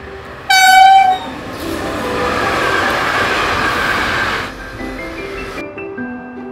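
A train horn blares loudly and briefly, then the train rumbles past with a steady roar that fades to quiet.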